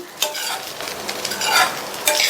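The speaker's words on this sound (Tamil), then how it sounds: "இந்த அவலும் உருளைக்கிழங்கும் நல்லா ஒன்று சேர்ற மாதிரி இந்த மாதிரி மிக்ஸ் பண்ணி கொடுத்துட்டே இருப்போம்" Flattened rice and potato stirred for aval upma in a pan over low flame, a steady scraping, sizzling stir with occasional utensil clinks, close and continuous.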